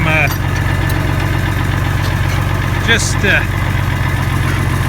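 An IH Farmall 560 tractor engine idles steadily while warming up, a loud, even low-pitched throb running throughout, with a few brief clinks and squeaks over it.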